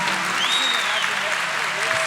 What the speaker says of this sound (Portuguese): Um aplauso para esse filho de Deus